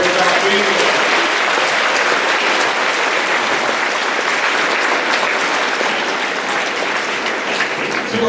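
A school assembly crowd at a high school Veterans Day ceremony gives a sustained round of applause, broad and loud, many hands clapping continuously and fading slightly toward the end.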